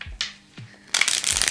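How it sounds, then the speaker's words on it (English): Iris Oracle cards are shuffled close by, a few soft taps and slides followed by a dense riffling burst of cards. "We're going to use the Iris Oracle cards."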